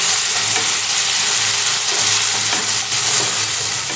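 Ginger and green chili paste hitting hot oil in a frying pan while cooking a Bengali fish curry with bata fish, giving a loud, steady, continuous sizzle that fills the whole stretch without any talk.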